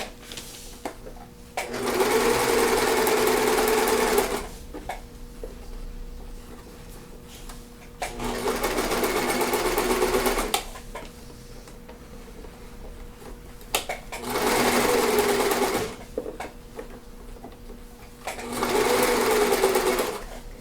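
A sewing machine stitches a facing on fabric in four separate runs of steady motor whirring, each a few seconds long, with quiet pauses between them and no talking.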